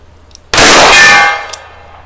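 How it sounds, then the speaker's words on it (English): A single bullet from a Smith & Wesson Model 19 revolver strikes a steel gong at a shooting range, giving one loud, sharp metallic clang that rings out and fades over about a second. "Did I even hit the gong?"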